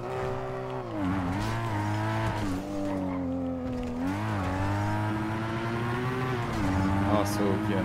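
A car driving in a video game, its engine droning steadily and rising and falling in pitch as it accelerates and turns, with faint tire squeal and someone talking over it.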